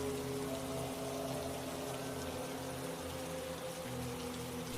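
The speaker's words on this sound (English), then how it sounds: "with the rain drumming relentlessly on the car's roof" Rain drums relentlessly on a car roof during a stormy night drive, a steady dense hiss of drops with a low constant rumble and no pauses.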